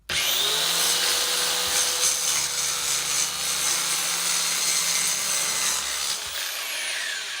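A power saw trimming a wood wall panel during a bus conversion, one continuous loud rasping cut that runs for several seconds, then stops abruptly near the end.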